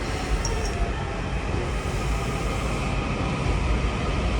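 DC Metro train pulling into Branch Avenue station, heard from inside the car as a loud, steady rumbling roar of wheels and motors with no talk.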